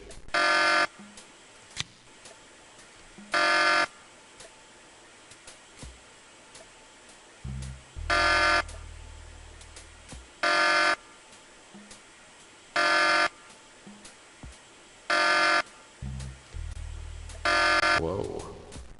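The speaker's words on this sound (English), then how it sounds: "A fucked up alarm system." In the Tex Murphy: Pandora Directive video game, an alarm system blares in repeated harsh buzzing bursts about a second long, some paired with a low droning tone, separated by quieter gaps of ambient room noise.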